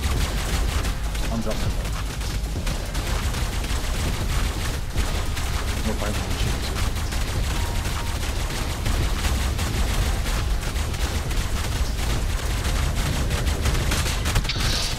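Gunfire in Ark Survival Evolved rattles without a break through a dense, loud wash of shots and booms. Players talk over it now and then.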